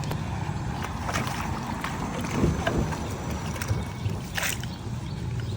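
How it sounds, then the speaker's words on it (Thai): Water gushing and bubbling up from a leaking underground main pipe at an opened excavation, a steady churning wash with gurgling surges, close and fairly loud throughout. "น้ำฉ่ำดันขึ้นมาปุดๆอย่างที่เห็นเลยครับ"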